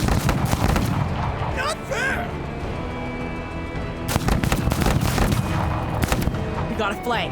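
Gunfire in a tactical shooter video game, sharp repeated shots and booming bursts in uneven clusters, loud and close, with voices talking in between.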